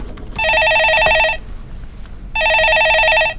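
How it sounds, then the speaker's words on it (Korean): A telephone rings into a live stock-market call-in radio broadcast, two loud electronic ring bursts separated by a short pause, close and clear with no talk. "예, 전화 받아보겠습니다."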